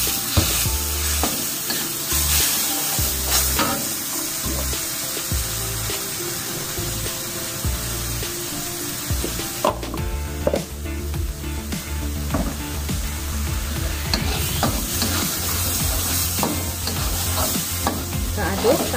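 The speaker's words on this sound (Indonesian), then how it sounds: "aduk sampai benar-benar harum." Spice paste for Padang-style grilled tengkek fish sizzles loudly in a pan as it is stirred, a dense continuous frying hiss with repeated scraping strokes and occasional clatter throughout.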